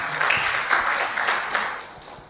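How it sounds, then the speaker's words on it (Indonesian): A church congregation claps together in a thanksgiving service, a brief run of steady, fairly distant applause with rhythmic swells and no talking. "Kasih tepuk tangan dulu yang meriah bagi Tuhan kita."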